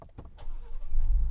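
A 2024 Ford Ranger Raptor truck powers up, with a few quick clicks and a short electric whir giving way to a low, steady engine rumble that builds and holds close by.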